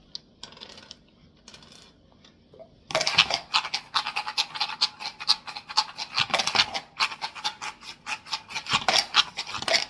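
Dice rattling and scattering inside a dice-stacking cup, a quiet faint start, then from about three seconds a dense, loud, rapid clatter of dice hitting plastic and each other, continuing in bursts to the end.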